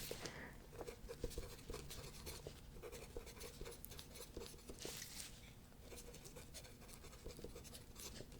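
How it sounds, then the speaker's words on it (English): A pen scratching across paper in quick, soft, close strokes, faint and continuous for several seconds with no talking. "I'm going to write down what I whispered"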